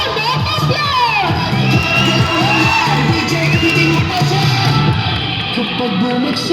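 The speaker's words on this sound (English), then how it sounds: "let's give them a round of applause!" A high school crowd at a Pi Day event cheers and shouts loudly, with children's yells and whoops rising over the noise while a voice speaks through it.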